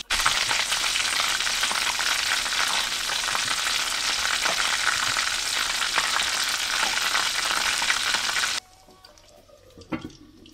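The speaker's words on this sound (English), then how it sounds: "I will try the regular frying way that you don't put the lid over it" Fish frying in an open, uncovered pan in Jamaica gives off a loud, steady, dense sizzle for about eight seconds, then cuts out abruptly, leaving a quiet room with a few faint clicks.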